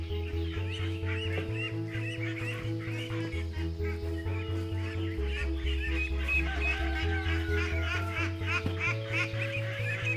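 Ducks and geese honk and quack in a busy overlapping chorus as they are let out of their overnight houses in the morning, steady and close over a low droning background, no talk.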